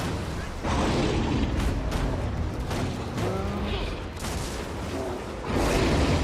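Weapon fire and explosions in the Guild Wars 2 video game, a dense stretch of repeated booms and bursts with a brief lull near the start, alongside game effects in the background.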